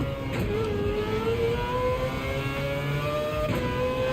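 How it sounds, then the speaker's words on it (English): A race car engine in the Gran Turismo 7 racing game screams loud and continuous as it climbs through the revs, with a brief shift near the end and steady game audio throughout. "Had to turn down the volume, putting the kids to bed, and the scream of this car."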